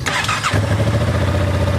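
A new 2025 Yamaha MT-07 motorcycle engine fires up after a brief starter whir, then settles into a steady, loud, throbbing idle close by.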